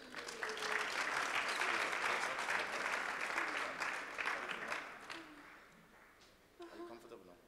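A church congregation claps together in a loud, sustained burst of many hands that tapers off after several seconds, with a voice speaking over the clapping and a short renewed patter at the end.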